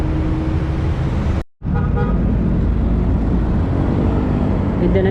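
A truck rumbling past on a busy city road beside Rizal Park in Manila, loud broadband traffic roar with a horn toot, a brief dropout in the middle, no talk.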